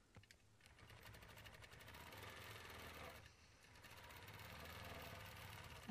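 A sewing machine runs steadily while stitching during freehand quilting, a continuous mechanical whir with a short pause midway, fairly close and alone without talk.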